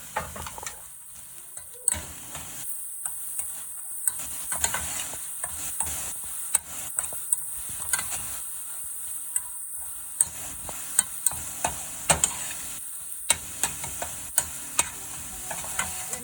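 A coconut and jaggery laddu mixture is stirred in a pan, the spoon scraping and tapping against the metal in a quick uneven rhythm over a faint sizzle, close and moderately loud with no voices.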